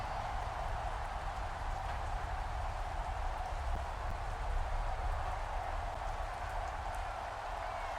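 Heavy rain pours steadily during a football game, a dense continuous hiss of downpour with low rumble underneath, loud and unbroken, with no distinct talk standing out.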